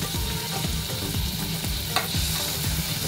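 Onion, tomato and ginger-garlic paste sautéing in a pan, a loud continuous sizzle broken by regular scraping stirs of a spatula, close up and with no voices.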